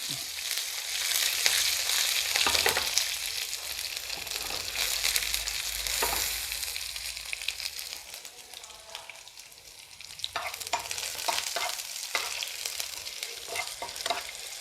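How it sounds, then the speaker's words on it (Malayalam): Dried red chillies and curry leaves drop into hot oil with shallots, a steady loud sizzle and crackle that stays unbroken, with occasional stirring scrapes in the pan. "ആ സമയത്ത് രണ്ട് വറ്റൽമുളകും കറിവേപ്പിലയും കൂടെ ഇട്ടു"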